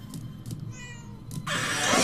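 Cat meowing in the video game Murdered: Soul Suspect, a few soft thumps and then one clear meow, followed by a sudden louder rushing noise.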